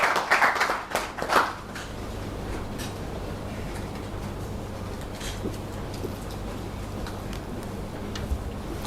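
A short burst of audience applause at a Zimbabwe high school quiz competition fades within about two seconds into a steady room hum with faint scattered ticks.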